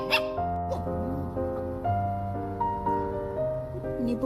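A puppy whimpering in an office, a run of high, thin, wavering whines and yips that rise and fall through the whole stretch, close and clear, with a steady hum underneath.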